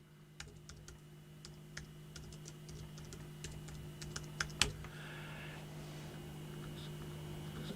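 Someone types on a computer keyboard nearby, producing a quiet run of light, irregular key clicks over a steady electrical hum.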